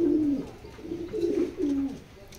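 Racing pigeon hen, raced in Bangladesh, cooing in several low, throaty phrases that rise and fall over a faint hiss of room background, close and fairly clear.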